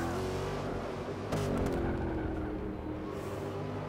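Race car engine in the video game Forza Motorsport 6, a loud steady drone with layered harmonics and a short burst of higher whine mid-way, heard alone without talk.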